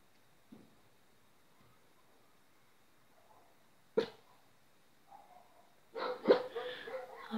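A dog barks indoors in a few short, sharp bursts, spaced apart over near silence, with a louder cluster of barks and rough throat-like sounds toward the end.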